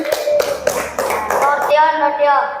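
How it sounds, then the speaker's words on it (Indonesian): Children in a classroom clap their hands in a quick burst of claps, followed by voices and singing-like tones. "Tepuk tangan."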